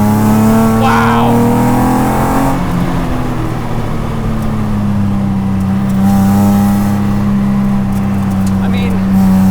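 A V6-swapped Exocet spins its wheels coming out of a corner, its engine a loud, close drone whose pitch climbs and sags with the throttle, while a voice talks over it.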